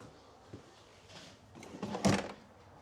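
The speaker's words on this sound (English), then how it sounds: "there's another pull-out drawer" Pull-out drawer in a 2025 Forest River RiverStone 421FK fifth-wheel RV sliding with a soft thunk at the start, then a louder rolling slide and a firm close near the end, close by with no talk.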